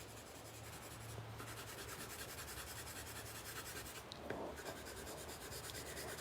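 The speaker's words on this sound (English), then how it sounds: "I'm going to use my pencil very softly, and I'm just going to give it one coat of brown to start with." Coloured pencil shading lightly on paper with a brown pencil, a soft, continuous fine scratching rub that stays faint and even, with a slight pause and small bump near the end.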